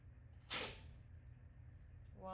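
A single sharp sneeze bursts out against a quiet room, brief and fairly close, followed by stillness and then the start of a voice.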